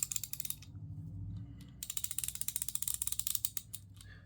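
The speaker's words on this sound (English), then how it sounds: "here is a SATA 3/8 ratchet" A SATA 3/8-inch ratchet wrench clicking close up, a short rough burst of pawl clicks, a pause, then a longer fast run of sharp ratcheting ticks.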